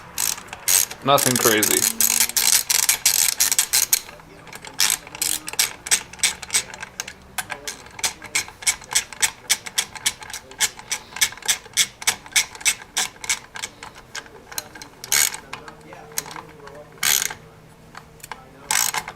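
A ratchet wrench clicks steadily while tightening small 8mm bolts on a Honda Grom motorcycle, a close, rapid string of sharp metallic ticks with a heavier grinding rub at the start and a brief spoken remark.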